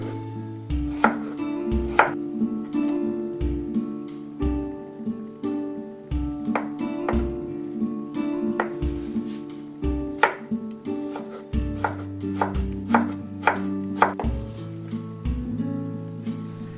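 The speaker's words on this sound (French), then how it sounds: "Je coupe le taro en fines juliennes." Knife cutting taro into fine julienne on a cutting board, a run of sharp wooden knocks in an uneven working rhythm with short pauses, close and clear, alone.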